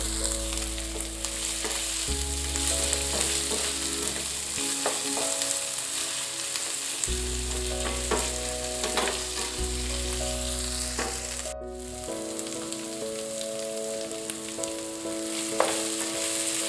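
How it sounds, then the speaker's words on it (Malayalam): Onion, tomato and curry leaves sauté in a pan for tapioca and beef ribs, a continuous close sizzle with repeated spatula stirs and scrapes, no talking. "നമുക്കതിലേക്ക് തക്കാളിയും കറിവേപ്പില ഇട്ട് കൊടുക്കാം. അത് നല്ലപോലെ ഒന്ന് വഴരട്ടെ."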